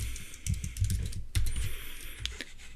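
Quick irregular clacks of computer keyboard typing while HTML code is entered, close and crisp, with a louder cluster of keystrokes midway and a faint electronic whine in the background.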